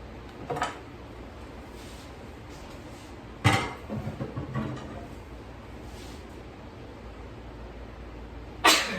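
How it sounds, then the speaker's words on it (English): Two or three short, sharp bursts break a quiet room background, the middle one followed by a brief shuffle of smaller noises. "It sneezed into my arm, not on my hand."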